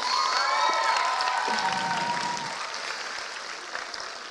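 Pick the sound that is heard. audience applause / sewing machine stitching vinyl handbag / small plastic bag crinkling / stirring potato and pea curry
audience applause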